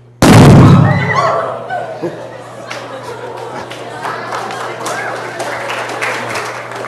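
About half a gram of acetylene gas explodes with a single sharp, loud bang, followed by a crowd reacting with scattered applause and chatter.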